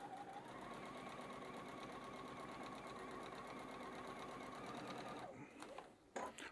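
A sewing machine runs steadily, stitching a quarter-inch seam on batik fabric while piecing a half-square triangle block. The machine hums continuously for about five seconds, then stops, leaving brief handling noises.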